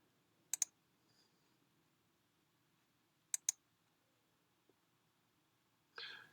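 A computer mouse clicks on a filter option on a web page, two quick double clicks a few seconds apart, faint and isolated in near silence.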